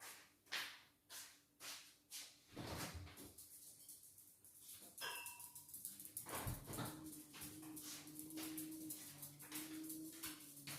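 A dog at the door lets out a run of faint, rhythmic whimpers and scratchy sounds, then a quieter stretch of indoor shuffling and movement.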